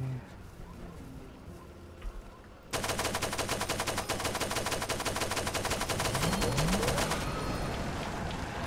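A dense stream of rapid gunfire erupts abruptly in Far Cry 2 after a quieter lead-in, continuing loud and unbroken for several seconds before trailing off.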